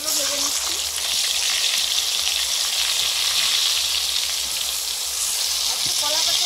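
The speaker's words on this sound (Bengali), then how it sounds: "ওই তো মাংসের আলুগুলো ভেজে নিচ্ছি" Potatoes for a meat curry fry in hot oil, a loud continuous sizzling hiss filling the whole stretch, close by, with faint voices in the background.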